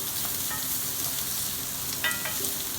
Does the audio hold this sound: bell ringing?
no